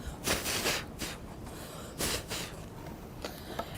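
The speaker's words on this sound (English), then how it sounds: "So let's blow a little bit of this dust off." Several short bursts of breath blowing sanding dust off a craft surface, close up, separated by brief pauses, with no talking.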